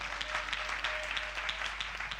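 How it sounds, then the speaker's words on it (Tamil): Congregation in a Sunday church service claps in praise, a moderately loud stretch of steady clapping with a low hum running beneath it. "கைத்தட்டேன் ஆண்டவர் வார்த்தைக்காக"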